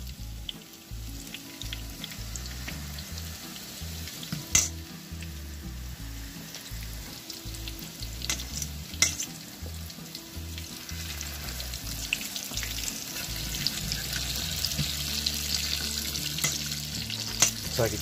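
Chiles rellenos frying in a hot pan, a steady close sizzle and crackle with occasional scraping and clinks of a utensil against the pan, gradually growing louder toward the end.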